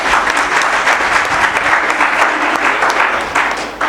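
Audience applause at a Sanskrit youth festival inauguration ceremony: loud, dense clapping that fills the room steadily and begins to taper at the very end.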